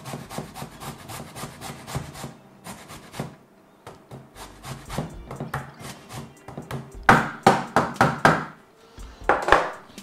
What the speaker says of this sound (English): I'm just going to grate it, finely grate it.